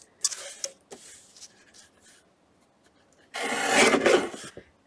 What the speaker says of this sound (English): let me just get kind of the edge of that envelope cut off